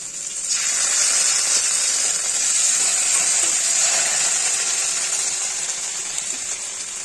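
Ground paste of ginger, cumin, coriander and dried red chilli hitting hot oil in a pan with fried drumsticks, giving a loud, steady hiss that starts abruptly and sizzles on evenly without talk.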